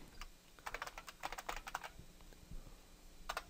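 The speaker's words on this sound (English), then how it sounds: "Make sure I got everything typed in." Quick bursts of computer keyboard typing, a few keystrokes at a time with short pauses, close and fairly quiet.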